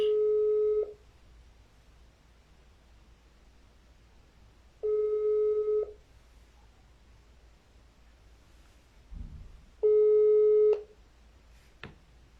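An outgoing telephone call rings out in three separate long electronic tones evenly spaced several seconds apart, clear and fairly loud, with quiet line hiss between them and a faint click.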